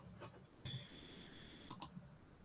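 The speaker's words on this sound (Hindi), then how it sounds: "अब वहां पे जाके वेरीफाई पे क्लिक करो" A computer mouse clicks a verify button: a few light, sharp clicks, with a quick double click near the end, heard alone over faint room hiss.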